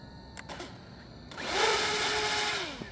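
An FMS Cessna 182 1500mm RC plane's electric motor spins up loudly into reverse thrust on landing, a rising whine that holds steady and then drops away after a few quieter clicks and thumps.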